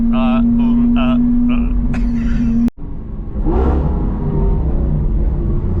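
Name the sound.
car revving for low-speed launch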